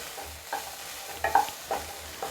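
Tomato and snake gourd stirred in a frying pan, with soft scraping strokes and a low sizzle, a few distinct stirring clatters spaced across the clip.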